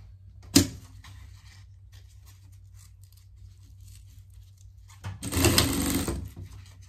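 Sewing machine stitching a hem on a sleeve for a pet rain jacket, a short sharp burst, a pause of quiet, then a longer run of rapid even stitching, close up.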